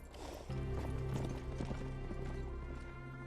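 Horse hooves clip-clop in an animated samurai series scene, a steady galloping rhythm that starts abruptly and continues close and loud throughout, layered with a sustained tonal hum and no talk.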